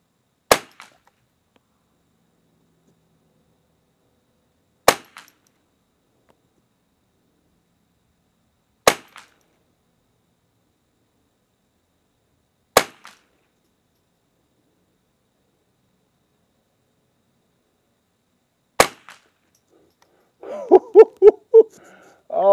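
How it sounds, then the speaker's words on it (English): A Remington 550-1 semi-automatic rifle fires five rounds of Eley Gold, each a sharp single crack separated by several seconds of silence, followed by a brief burst of faint clatter at the end. "Remington 550-1. 5 rounds of Ely Gold on my orange target,"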